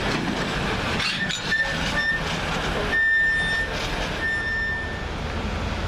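Class 220 unit 220015 passes on a CrossCountry service at Doncaster station with a loud sustained rumble and rail clatter, while repeated high warning beeps sound over it.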